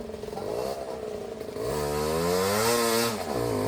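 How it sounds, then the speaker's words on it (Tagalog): A motorcycle engine revs hard and loud, its pitch rising and falling in repeated surges over a steady roar, close by with no talking. "May nagpapasigaw ng motor."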